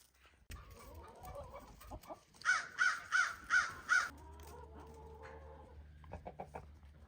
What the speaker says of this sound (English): Oh no, the geese are gonna get out again.